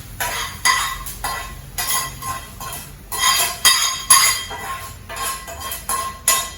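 Spiced tempering poured from a small pan into dosa batter in a home kitchen, heard as clinks and scrapes of metal cookware in short irregular bursts, close and fairly loud, with no talking.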